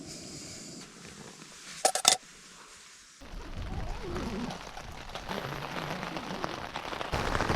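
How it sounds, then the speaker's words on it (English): Rain patters on a Hilleberg tent at a spring summit camp on Crug Mawr in the Brecon Beacons. It is faint at first, broken by a brief clatter, then turns to a closer, denser, steady patter. "It's raining."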